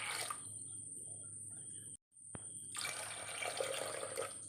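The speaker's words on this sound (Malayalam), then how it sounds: "നമുക്ക് കുറച്ച് വെള്ളം ഒഴിച്ച് കൊടുക്കാം." Water runs from a tap into a pressure cooker, a bright steady gush that cuts off sharply for a moment, then resumes with a thin drip before pouring again loudly and evenly.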